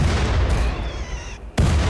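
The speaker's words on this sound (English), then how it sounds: "an explosion happens on the front of the ship." An explosion on a ship in the RimWorld video game, a loud blast that trails off into a fading rumble before another sharp burst erupts near the end.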